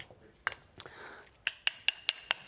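Seasoning is mixed in a bowl for a steak dish. A spoon strikes the bowl in a series of sharp, bright clinks, a few scattered at first and then a quick, even run, against a quiet background.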